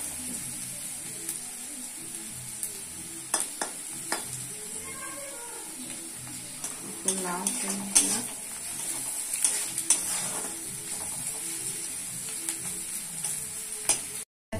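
A tempering (baghar) for red lentil masoor dal sizzles and crackles steadily in a hot pan, with occasional clinks and scrapes of stirring, close and continuous without speech.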